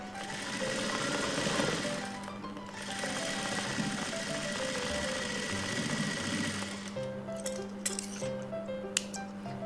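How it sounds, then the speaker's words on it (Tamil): A sewing machine stitches around the edges of a blouse, running in a steady, continuous whir with a rhythmic mechanical chatter and a few light clinks toward the end. "வந்து சேர்த்து நல்லா சுற்றியும் தையல் விட்டுருங்க."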